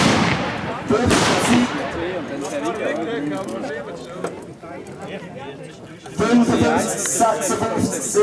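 Rifle shots at a 300 m shooting competition with carbines, standard rifles and assault rifles, sharp cracks sounding intermittently while people talk nearby.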